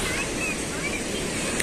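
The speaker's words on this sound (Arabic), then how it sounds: "حالة البحر سيئة جدا جدا، وارتفاع شديد في الامواج" Rough, high sea waves at an Alexandria beach rush and hiss in a steady wash of surf, mixed with gusting wind noise on the microphone.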